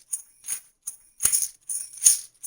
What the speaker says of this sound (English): A very slowed down version of how I play the tambourine is kind of like this.